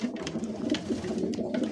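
A few pigeons give low, rolling coos in a continuous, moderately loud murmur nearby, without any voices.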